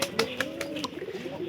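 A pigeon coos with soft, low, rolling calls near at hand, with a few faint clicks and rustles between them.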